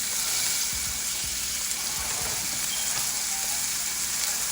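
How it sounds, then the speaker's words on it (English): Keto food fries in ghee in a hot pan with a steady close hiss and sizzle, plus faint crackles and pops underneath. "And then I will fry it in the ghee."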